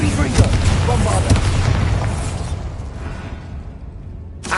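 Bombarda blasting spell going off in Hogwarts Legacy: a heavy, loud boom with a broad roaring rumble that sustains for a couple of seconds, then slowly decays, with a second short burst right at the end.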